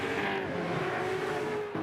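A Ford Falcon touring race car engine howls at high revs during a Touring Car Masters race at Adelaide, one sustained loud note that shifts pitch slightly and dips briefly near the end.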